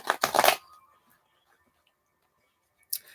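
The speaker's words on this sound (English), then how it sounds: "let me first quickly shuffle these cards just to switch up the energy a little bit" Tarot cards being shuffled close up: a quick riffling burst of papery flutters lasting about half a second, then near silence before a brief second rustle at the end.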